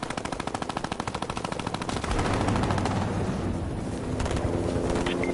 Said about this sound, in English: Every angle we're getting shot at, bro.